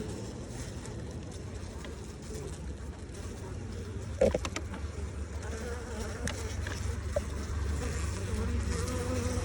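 Honeybees buzz steadily around a hive in a dense, continuous hum, with a few brief knocks and clicks partway through.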